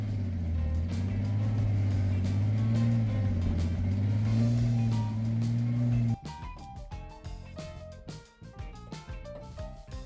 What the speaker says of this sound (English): It's actually like peeling out